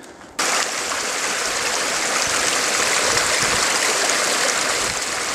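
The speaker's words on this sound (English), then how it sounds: "there's actually a little waterfall area that I'm trying to get to, where this water here is falling down" A small waterfall spills into a rocky stream, its steady, loud, broadband rush starting abruptly after a brief quiet moment and holding evenly to the end, close by and alone.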